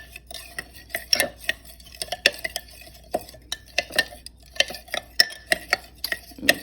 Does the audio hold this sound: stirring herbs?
yes